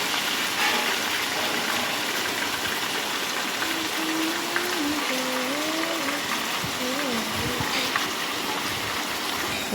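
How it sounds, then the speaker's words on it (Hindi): Chicken pieces dropped into hot oil in a pan over a full flame give a steady, fairly loud sizzling hiss that continues throughout. "अब हम इसमें जो है तेल गर्म हो गया है और हम इसको जो है ये सारा चिकन इसमें डाल देंगे।"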